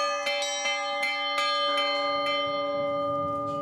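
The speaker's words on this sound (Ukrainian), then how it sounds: "По кому б'є дзвін?" Church bells ring from a watchtower, several strikes of bright clanging tones with long sustained hum, then a steadier ringing pattern with a low rumbling undertone, loud and close, no talk.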